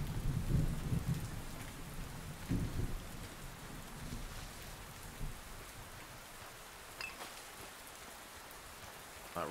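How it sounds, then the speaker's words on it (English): Rain and rolling thunder from the video game Len's Island: a steady wash of rainfall with deep rumbles, heaviest early on and easing into a constant patter with occasional drips, no voices. "That rain makes it a little hard to see."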